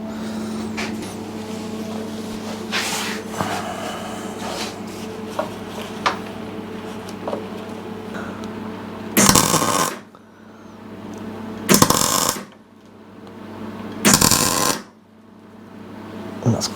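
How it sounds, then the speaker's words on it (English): Three short bursts of electric tack welding on a brake pedal bracket of a Royal Enfield motorcycle, each a loud crackling hiss of a second or so, following steady workshop hum and small metallic knocks. "So I'm going to get a glove on and try and tack that in place."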